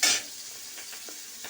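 Green chilies hit a hot pan with a sharp hiss and keep sizzling quietly while being stirred, a few soft scrapes following the first burst, close and with no talking.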